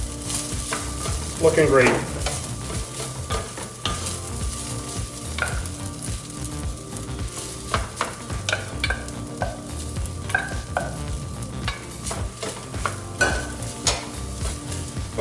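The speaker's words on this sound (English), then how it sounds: "Make sure everything's stirred in here nicely." An onion, butter, oil and rice mixture being stirred in a hot pan, with continuous soft sizzling and repeated scraping and clinking of a utensil, plus a brief spoken comment.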